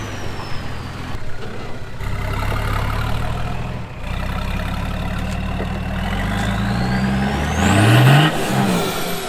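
A 4WD engine revs hard off-road while a wheel spins, rising and falling in loud surges with a sharp climbing whine near the end, close and alone with no talk.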